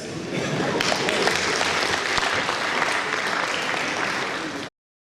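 Sustained audience clapping at a Nigerian pharmaceutical manufacturers' program event, a dense even roar of many hands that swells in, holds loud, then cuts off abruptly.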